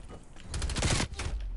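AK rifle gunfire crackles in a video game in several rapid bursts of repeated shots, moderately loud and close, with a brief gap before a final burst.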